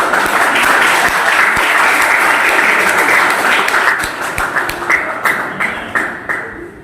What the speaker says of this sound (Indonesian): Kasih beri tepuk tangan.